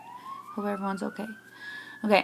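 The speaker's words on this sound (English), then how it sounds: "Sorry for the sirens in the background." A wailing emergency siren rises slowly in the background, steady and moderately loud, while a person speaks briefly over it nearby.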